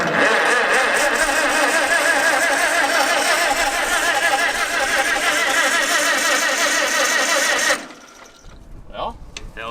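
An abandoned tractor's engine runs loud and steady with a rapid rhythmic chatter for nearly eight seconds, then cuts off abruptly, leaving quiet handling noises and a brief voice.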